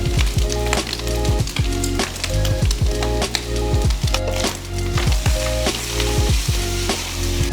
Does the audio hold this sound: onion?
yes